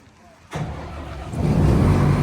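A Fendt 6335C combine harvester engine cranks and fires up abruptly, then settles into a loud, rumbling idle that builds steadily.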